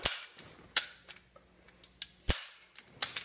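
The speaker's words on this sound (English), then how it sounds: "It's a toy gun." Toy cap gun fired indoors, several sharp cracking pops at irregular intervals with quieter clicks between them, close and loud against a near-silent background.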